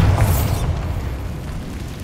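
The Bombarda explosion spell in the video game Hogwarts Legacy goes off with a loud, deep boom and a bright crackling burst, then a rumbling blast that slowly fades, with no voices.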